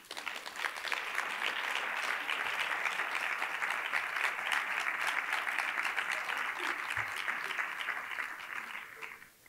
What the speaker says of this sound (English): Please stand and give yourselves a round of applause.